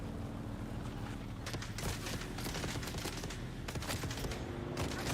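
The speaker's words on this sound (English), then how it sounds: "Stop shooting my ride, man." Gunfire aimed at a vehicle in the video game Dune: Awakening, steady distant volleys and scattered shot cracks over a constant engine-like rumble, with no talk.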